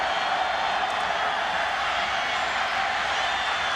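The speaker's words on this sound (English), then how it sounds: "Crowd's on its feet." A packed stadium crowd cheers continuously at the Ohio State versus Kansas State 2004 Fiesta Bowl, a steady, dense roar with no breaks, loud and enveloping.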